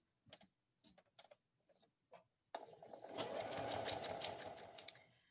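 A domestic sewing machine top stitching, a few short clicks and taps of adjusting first, then a steady close whirring run of stitching for a couple of seconds before it slows to a stop.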